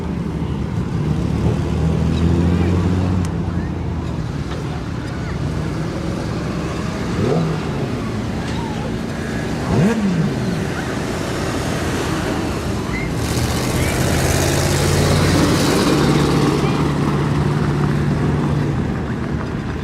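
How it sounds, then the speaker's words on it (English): Speedway race car rollover crash at Maryborough Speedway, Fraser Shores: a loud, continuous engine roar with gusty wind-like noise runs throughout, and brief swells suggest the tumbling car mid-race. "Crash crew straight into action. That was an absolute monster rollover."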